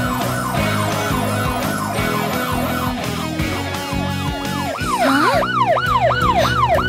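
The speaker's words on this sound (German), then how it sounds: "Achte auf die Sirene der Flugdrohne." A flying drone's wailing siren in PAW Patrol sounds loud and close, rising and falling in quick repeated sweeps over a dense animated-show music bed with no talking.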